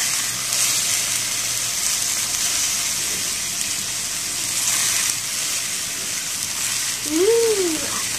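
Bean sprouts are stirred as they stir-fry in a hot pan, making a continuous watery hiss and sizzle. A brief voice sounds near the end.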